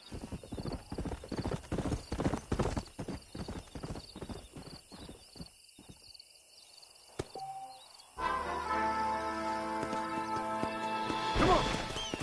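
A stallion's hooves clip-clop steadily on the ground in a Western video game, close and rhythmic, then fade before a horse whinnies briefly and a swelling musical score takes over.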